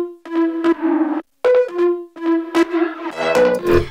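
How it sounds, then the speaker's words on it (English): Electronic dance drop synth with heavy automated delay and reverb, individually pitched echoes giving choppy, stuttering tonal bursts that cut in and out with brief gaps, loud and up front. "lots and lots of automations of delay and reverb, which are then pitched individually to make it sound a bit more interesting"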